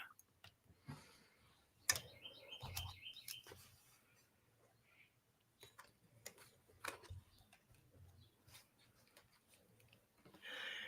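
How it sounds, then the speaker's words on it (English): Birds chirp faintly outdoors in a short bright burst of tweets, surrounded by soft ticking clicks and quiet background noise, with no speech. "the birds start chirping as soon as we start reading on you"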